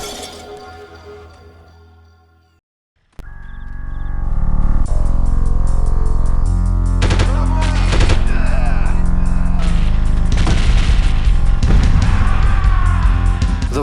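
Barrett sniper rifle fire in the Delta Force video game: after a brief fading lead-in and a moment of silence, loud sharp shots and crashing impacts follow one another amid dense game noise.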